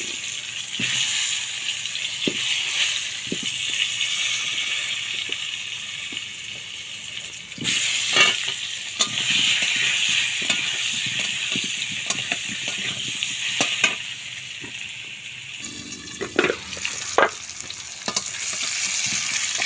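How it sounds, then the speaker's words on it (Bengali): Potato pieces with turmeric powder frying in oil for chicken kosha, sizzling steadily in a pan while a spoon stirs and scrapes, with occasional louder clatters up close. "আলুগুলোকে লাল লাল করে ভেজে নেব।"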